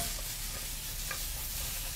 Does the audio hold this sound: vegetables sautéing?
yes